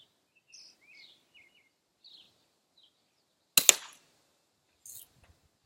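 A single sharp, close crack from a BB gun stands out against quiet outdoor air, followed by a fainter pop, while small birds chirp sparsely in the background.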